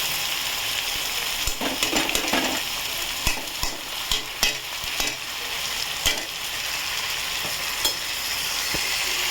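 Lentils stirred into hot oil with fried tomatoes for khichuri give a steady, close sizzle, broken by repeated sharp spatula scrapes and taps against the pan.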